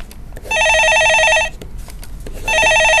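A telephone ringing in a Korean stock-advice call-in broadcast studio, two loud electronic bell trills with a short gap between them, close and clear with no talk over it.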